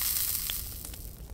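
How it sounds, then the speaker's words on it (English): A hamburger sizzling over a campfire in the survival video game Mist Survival, a steady close hiss of frying with faint crackles, no talk. "Ooh, the sizzle."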